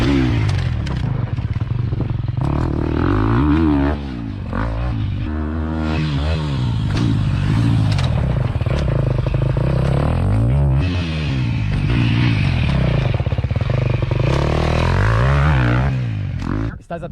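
A motorcycle rider brakes with the clutch pulled in, skidding up the side of a dirt berm while the engine drones loudly and steadily, with scraping and clattering for about seventeen seconds.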